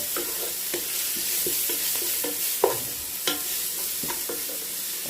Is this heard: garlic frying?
yes